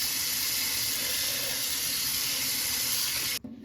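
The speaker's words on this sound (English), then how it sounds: "Rinse briefly under cold water." Cold tap water runs steadily into a sink as sliced cabbage strips are rinsed, a loud, even hiss-and-splash that cuts off abruptly near the end.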